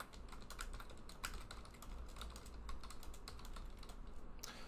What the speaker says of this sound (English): I've got to type onto this keyboard here.